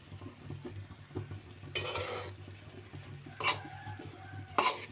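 Winter vegetables with cabbage and fresh coriander stirred in a pan, soft frying sizzle under a few short bursts of scraping spoon strokes against the metal, close and fairly quiet.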